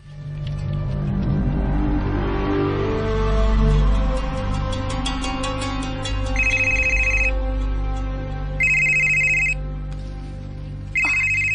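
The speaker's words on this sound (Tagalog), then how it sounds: "Ang akong cellphone." Cellphone ringtone ringing loudly and close: a melodic electronic tune builds, then gives way to repeated bright beeping bursts that come back in regular pulses, with no voices.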